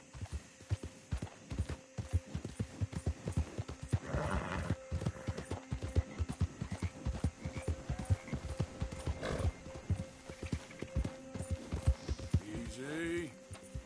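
Horse hooves clip-clopping at a steady gallop in the Red Dead Redemption 2 video game, rhythmic and close, with a brief neigh and a rider's voice speaking over it.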